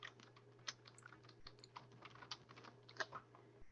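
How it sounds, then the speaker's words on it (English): Fingers tap out an email address on a computer keyboard, a quick, irregular run of light clicks heard close and quietly over a faint steady hum. "go ahead and type in that email address"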